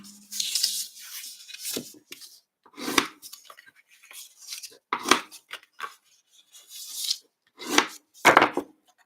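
Paper is folded and burnished for a handmade Christmas craft tag: a series of separate dry rubbing and scraping strokes, close and fairly loud, with pauses between them.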